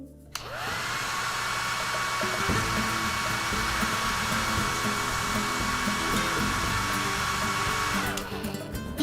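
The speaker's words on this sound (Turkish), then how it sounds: "Ay Barbie'cim şimdi senin saçlarına fön çekelim." A hair dryer blows hair dry in a steady, loud whir that clicks on at the start, runs unbroken for several seconds and cuts off near the end, with no talking.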